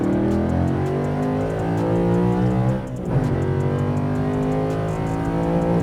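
A car engine revs while parked, its pitch rising and falling, dipping briefly once midway before settling back into a loud drone.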